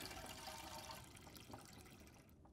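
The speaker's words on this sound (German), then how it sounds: "Was ich mal mache, ist mal unsere Lampe vielleicht auffüllen." Fuel being poured into a lamp in The Long Dark, a soft, quiet liquid trickle and slosh that fades out at the end.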